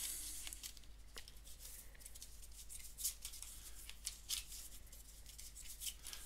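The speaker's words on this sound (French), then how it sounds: "Je vais mélanger." Cards for the Aventuria board game being shuffled by hand, a dense run of crisp papery riffles and flicks with sharper snaps at a few moments, close and continuous with no talk.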